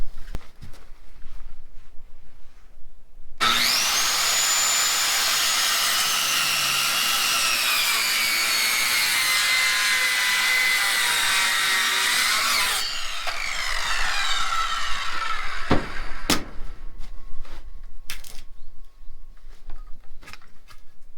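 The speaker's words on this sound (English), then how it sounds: "I'm just gonna cut this bottom portion of this leg off" A wooden leg on a mobile egg-layer chicken coop is sawn through near its bottom end. A steady, loud cutting rasp runs for about nine seconds, followed by quieter scraping and a few sharp knocks.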